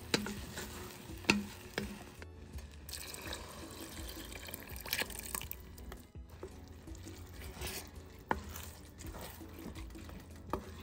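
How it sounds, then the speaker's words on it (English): Steady sizzling as rice fries in oil with beans in a pan, with stirring scrapes and a few clinks, close by and without speech. "what I like to do is cook down my rice with that oil and the beans and everything"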